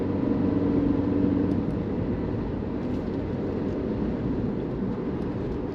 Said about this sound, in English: Just coming over some bumps around the corner now.